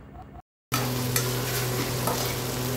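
Garlic, green chillies and tamarind fry in a pan for a chutney, a steady close sizzle with stirring scrapes that resumes after a short silent gap, with no talking.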